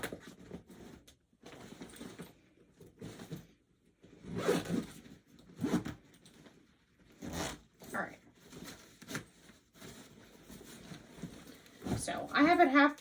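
A JenniBag travel bag's zipper is drawn in a series of short, scratchy pulls with pauses between them, close and fairly quiet, with a voice talking over parts of it.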